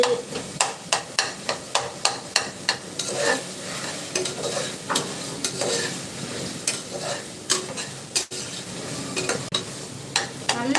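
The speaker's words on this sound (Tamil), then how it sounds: "வதங்கி வந்தால் தான் குழம்பு நல்லா டேஸ்ட்டாக இருக்கும் நல்லா வதங்கி வரணும்" Ingredients for mutton curry sautéing in a pan, steady sizzling under rapid, rhythmic spatula scrapes and taps against the metal, close and fairly loud with no talking.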